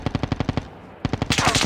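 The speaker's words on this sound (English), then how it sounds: "Oh, somebody shooting me over here." Rapid automatic gunfire in the mobile game Call of Duty Mobile, loud evenly spaced bursts of shots, a short break, then another quick burst that fades into a noisy whoosh.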